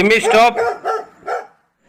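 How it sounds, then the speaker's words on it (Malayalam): A dog kept in a cage at a house gives a quick series of four loud, close barks, each shorter and weaker than the last, then goes quiet. "ഏട്ടാ അവിടെ നായുണ്ട്."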